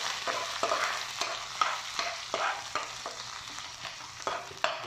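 Garlic and onion sautéing in a pan for tuna carbonara, a steady sizzle broken by repeated sharp scrapes of a spoon stirring every half second or so, close and fairly quiet with no talking.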